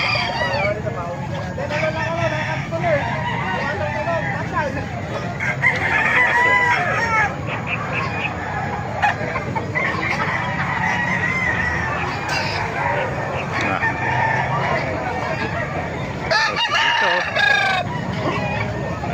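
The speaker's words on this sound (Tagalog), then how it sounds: "Lalaking manok ito mga kamasya." A rooster crows repeatedly amid busy noise at a chicken market in Calumpit, Bulacan, with clucking fowl and people talking throughout.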